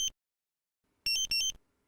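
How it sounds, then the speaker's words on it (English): A brief electronic beep, then a quick double tone of two sharp high-pitched beeps in close succession from a Dräger X-am 2500 portable gas detector alarm, clean and loud against silence. "An audible double tone sounds."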